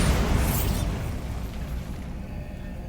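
A Bombarda blasting spell goes off in the Hogwarts Legacy video game, giving a loud, broad explosive burst at the start that rumbles and slowly fades away.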